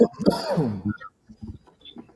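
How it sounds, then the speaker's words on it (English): A single close, throaty cough or throat-clear, followed by a few faint, brief sounds. "I was just coughing and saying sorry about that."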